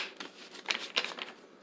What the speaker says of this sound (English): I've already shuffled them a few times